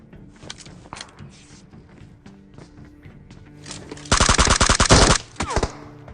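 PUBG gunfire: scattered single shots and footsteps early on give way to a loud, rapid, close burst of firing near the end, then a few trailing shots, with little talk.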